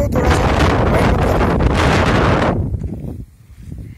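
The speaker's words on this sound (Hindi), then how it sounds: "हवा चल रही है" Strong wind roars and buffets the microphone in loud gusts, then drops away abruptly, leaving quieter, uneven rustling.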